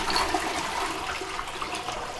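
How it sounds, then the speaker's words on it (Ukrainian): A toilet flushing in a hotel bathroom in the Carpathian resort town of Yaremche, a loud, steady rush of water that stays close and continuous throughout, with no talking. "Зараз ми подивимося, як працює злив тут."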